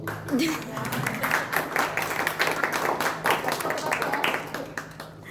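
Brief round of clapping from a small seminar audience, uneven individual hand claps layered over a low steady hum, with a voice heard briefly near the start.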